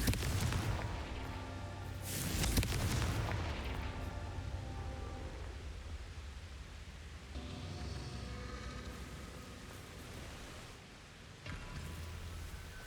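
Confringo fire blast spell explosions in the Hogwarts Legacy video game: a heavy booming burst opens, a second big blast follows soon after, then rumbling fiery noise lingers at steady loudness.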